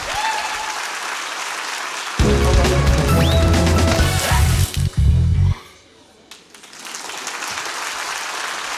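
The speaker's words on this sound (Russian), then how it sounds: "ваши аплодисменты." Audience applause at a Good Night Club comedy show, a dense, steady clatter of many hands that runs throughout, swelling louder with a heavy booming layer through the middle before easing back to lighter clapping.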